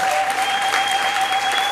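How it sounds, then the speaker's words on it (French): Church congregation at a wedding applauding, a brief, dense wash of clapping from many people with a steady tone humming underneath. "Applaudissez pour le Seigneur."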